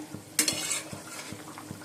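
Fish curry with cauliflower and potato cooking in a pan: a loud sizzling burst flares up near the start and fades, while soft scrapes and knocks of stirring recur every half second or so.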